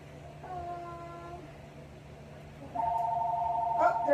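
A phone rings with an electronic tone that comes in partway through and holds steady and fairly loud, after fainter earlier tones, over a low background hum with no speech.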